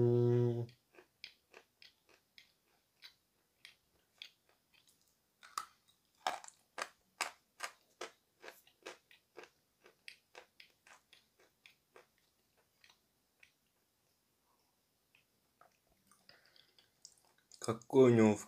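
Piece of Tyumen chalk being bitten and crunched near the mouth, a run of sharp crisp snaps and crackles, with brief speech at the start and end.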